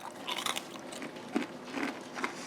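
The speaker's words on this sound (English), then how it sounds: "Oh, hear that crunch, folks?" Candied bacon being bitten and chewed up close, with several sharp, brittle crunches spaced irregularly and quiet chewing in between.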